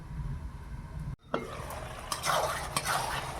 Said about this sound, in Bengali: একটু কষিয়ে নেই ভালো করে।